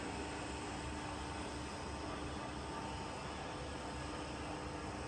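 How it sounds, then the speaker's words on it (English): A Chin Yuan Hsing heavy-duty 900 mm precision lathe from Taiwan, its spindle turning at 365 rpm, gives off a steady, even mechanical drone with a faint tonal hum. The sound holds unchanged throughout, with no talk over it. "Working of spindle at 365 rotations per minute."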